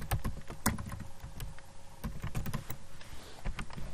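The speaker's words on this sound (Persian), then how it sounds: "یک نام مشخص برای بتن ما تایپ میکنیم." Someone types on a computer keyboard while working in Microsoft Access, producing close, irregular clicking keystrokes in quick bursts with short pauses.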